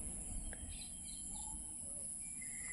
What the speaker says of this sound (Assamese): চৰাইৰ মাত চাগে শুনিয়ে আছে আপোনালোকে